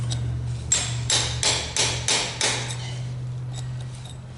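A hammer striking a steel punch against a rusted-in universal joint, about six sharp metallic blows in steady rhythm, close and loud over a constant low hum, followed by lighter clinks.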